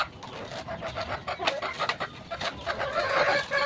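A chicken in a Filipino backyard setting gives a run of soft clucks and short vocal bursts, close and moderately loud, continuing through the whole stretch with no talk.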